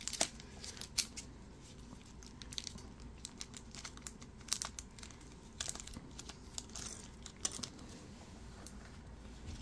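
Tightly packed mail holding trading cards is unpacked up close. Steady crinkling, rustling and tearing of packaging go on with sharp little snips and crackles throughout, and no one speaks.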